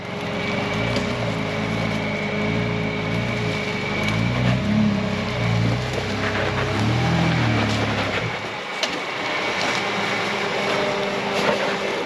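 An off-road truck crawls up the rocky Erzberg hill, its engine a steady low drone with a rhythmic pulsing that drops off abruptly near the end, leaving faint rattles and outdoor noise.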